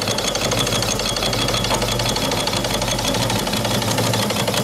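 A homemade quarter-scale steam donkey engine with boiler runs on a cold day, giving a steady, rapid chuffing and knocking rhythm with hissing exhaust up the stack, loud and continuous.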